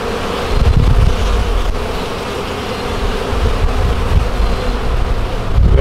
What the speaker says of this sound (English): There are a lot of bees on this frame.